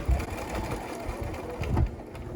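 Sewing machine stitching forward and then backstitching across a vinyl tab for a rooftop tent cover, a close, low mechanical whir in two short runs with a brief pause between.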